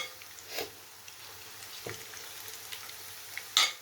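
Arbi leaf pakoras sizzle quietly in hot oil, a soft steady frying hiss broken by a few faint clinks and scrapes as they are turned, with a louder clatter at the end.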